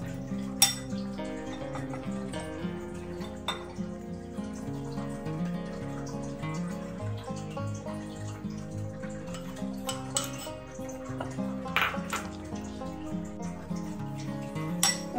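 A spoon mixes ground biscuit crumbs with melted butter in a bowl for a homemade cheesecake base, giving light clinks and scrapes against the bowl under steady background music.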